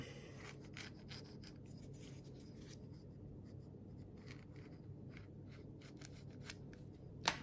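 Rasping, scratchy cutting of a homemade fishing lure blank along a marked line, a steady close scraping texture throughout with irregular bursts and a sharp louder snap near the end.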